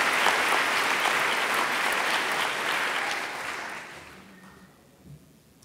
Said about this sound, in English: So give them a round of applause for the